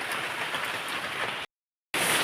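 Heavy rain pours steadily outside as a dense, continuous hiss; the sound cuts out for about half a second and then returns, a little brighter.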